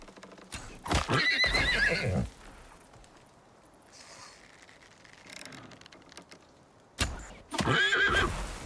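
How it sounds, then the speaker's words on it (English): Two loud horse whinnies in the video game Icarus, one near the start and one near the end, with quieter rustling and faint clopping in between. "There are a lot of these horses here."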